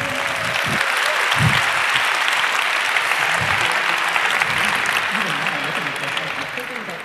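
Dense audience applause fills a conference hall as a crowd responds to a request for louder test clapping, steady and loud throughout and easing slightly at the end, with some voices mixed in.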